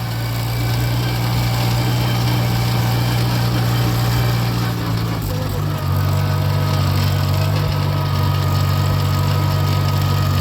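A Farmall Cub tractor engine runs steadily while driving on a farmstead trail, a loud, continuous low drone close by that shifts pitch slightly midway, with no talk over it.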